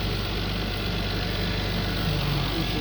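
A Toyota Mark II in the 100-series body sits with its engine running at a steady idle: a continuous low hum and throb, close and even, with no speech over it.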